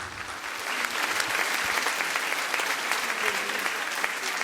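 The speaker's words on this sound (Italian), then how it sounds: "Ancora un applauso, grazie davvero." Sustained audience applause fills a hall after a choir concert at a solidarity event in Sardinia, a dense, loud and steady clapping of many hands that carries on without a break.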